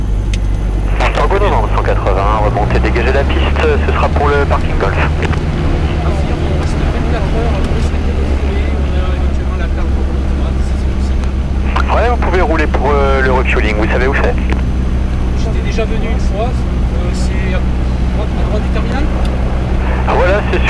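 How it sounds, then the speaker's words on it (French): Inside a light aircraft landing on a runway, a loud, constant engine drone fills the cabin while voices talk over it throughout. "Pas beau atterrissage."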